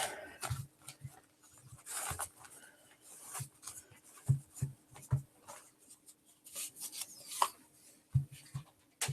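Newspaper strip being rolled up by hand to form a small plant pot, soft close rubbing and papery rustling in uneven strokes with occasional light taps, quiet and alone.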